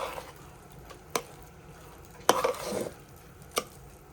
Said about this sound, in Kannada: ಮೇಲೆ ಸ್ವಲ್ಪ ಕೊತ್ತಂಬರಿ ಸೊಪ್ಪನ್ನು ಹಾಕಿ ಮಿಕ್ಸ್ ಮಾಡಿಕೊಳ್ಳಿ